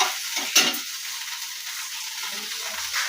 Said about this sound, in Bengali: পাঁচফোড়ন দিয়ে দিলাম তেলের মধ্যে